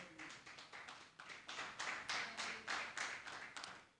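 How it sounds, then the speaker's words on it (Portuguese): A church congregation claps steadily during a sermon, a faint, even series of distinct claps with a rhythmic pulse and no voices over it. "Uma salva de palmas"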